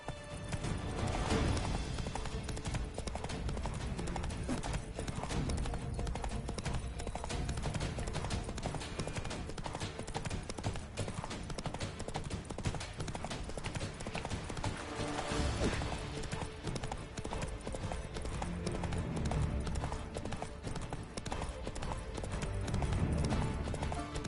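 Roach, a horse in The Witcher 3 video game, gallops with a fast, continuous rhythm of hoofbeats that runs loud and unbroken throughout, with brief game sounds mixed in.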